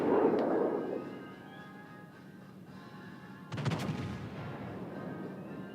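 Sixteen-inch naval guns of the battleship North Carolina fire in World of Warships: Legends, a single deep booming salvo with a sharp crack and rumbling tail, following a fainter earlier boom.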